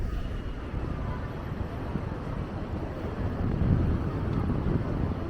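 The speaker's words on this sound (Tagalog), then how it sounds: "Lakas talaga ng hangin." Strong wind buffets the microphone on a busy city street in Taoyuan, Taiwan, ahead of an approaching typhoon, a steady broadband roar that swells louder midway and holds on.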